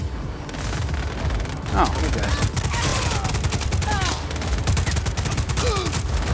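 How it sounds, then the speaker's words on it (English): Rapid, dense gunfire bursts from the Just Cause 4 video game, with steady overlapping shots and booms throughout, close and loud, while a voice speaks over the combat. "Who is shooting?"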